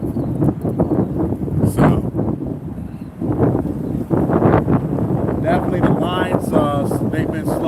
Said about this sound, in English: You got that wind out here.